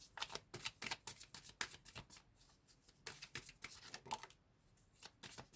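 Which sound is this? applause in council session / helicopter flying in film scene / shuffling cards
shuffling cards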